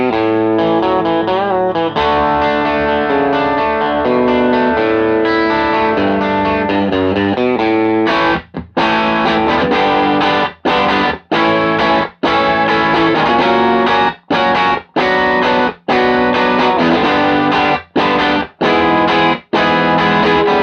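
Electric guitar played through distortion and chorus effects, loud and close: sustained ringing chords at first, then choppy rhythmic strumming broken by repeated abrupt stops.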